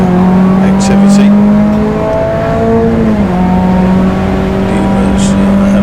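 A pack of eleven Ford Puma race cars strung out in line at Donington Park, their engines droning and shifting pitch loudly as they pass in close succession, with a commentator talking over them.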